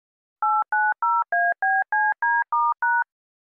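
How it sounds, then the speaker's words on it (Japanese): A telephone number is dialed as nine crisp touch-tone beeps in a steady, evenly spaced sequence, clear and alone with no voices. "マリサ、依頼主に電話できる？"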